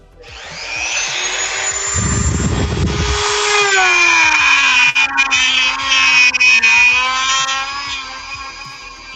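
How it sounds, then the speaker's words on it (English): A power drill whines steadily at close range while customizing an action figure, its pitch shifting slightly as it runs, with a brief burst of grinding noise early on. "Pardon the drill noise."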